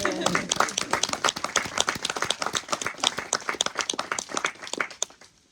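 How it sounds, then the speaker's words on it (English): Wedding ceremony guests give a round of applause after the vows, brisk close clapping from a small group with voices mixed in, tapering off at the end. "I think they deserve a little round of applause."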